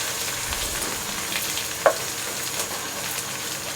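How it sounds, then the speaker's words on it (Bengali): Chopped onions fry in oil for tehari, browning lightly with a dense, steady hiss and crackle, plus one sharp clink of a utensil partway through; no one speaks. "পেঁয়াজগুলোকে হালকা একটু ব্রাউন করে ভেজে নিলাম"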